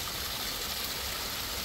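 Water from a pump feeding a bog filter flows and splashes steadily into an eco-system pond, a constant close rushing trickle with no pauses and no voices.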